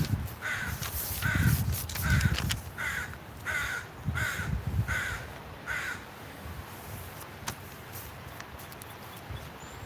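Crows in a windy park give a run of about eight evenly spaced caws, fairly close and clear. The calls stand over constant wind rumble, and the wind continues alone once they stop.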